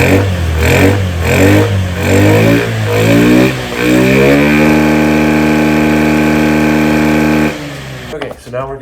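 A Honda Metropolitan scooter engine revs up in rising surges, then holds a steady high-pitched drone for several seconds before cutting back abruptly, close and loud.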